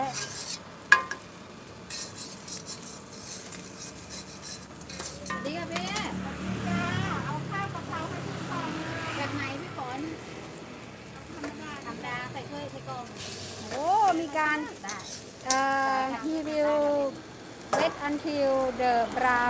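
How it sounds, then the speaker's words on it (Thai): Thai-style omelet egg frying in a pan, a steady soft sizzle with occasional scraping and stirring, running beneath a woman's chatter throughout. "ก็คือจะรอให้ไข่สุก เป็นสีน้ำตาลนิดนึงแล้วก็จะ กลับด้านนะคะ"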